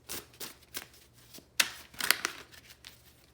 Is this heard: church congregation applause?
no